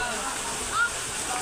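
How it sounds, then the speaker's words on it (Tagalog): A strong river current rushes steadily with a dense, even wash of flowing water, loud and close throughout, with faint voices underneath. "Mawalakas yung agos ng mga tubig."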